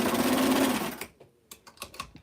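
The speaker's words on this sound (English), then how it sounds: "20, and stitch right off the side of the fabric." Sewing machine stitching continuously through fabric at close range for about a second, then stopping, followed by a few short clicks and handling knocks.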